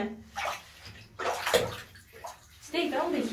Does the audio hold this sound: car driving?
no